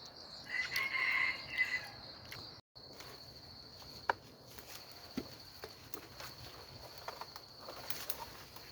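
A rooster crows once, a fairly faint, drawn-out call early on, followed by quiet outdoor rustling and occasional footsteps.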